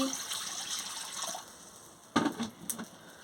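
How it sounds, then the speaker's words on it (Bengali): Water is poured into a cooking pot for a Bengali tilapia fish curry, a soft close splash and trickle lasting about a second, faint and brief against quiet kitchen background. "জল দিয়ে দিচ্ছি"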